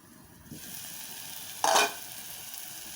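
Spice paste for a prawn curry with curd and coconut frying in a pan, a steady soft sizzle that starts abruptly, with one brief louder burst of stirring partway through and no talk.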